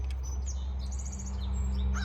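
Crows cawing outdoors, with other birds chirping around them; short calls come in a run of quick repeated notes over a steady low background hum.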